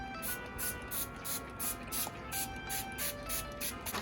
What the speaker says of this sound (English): spray some water on the paper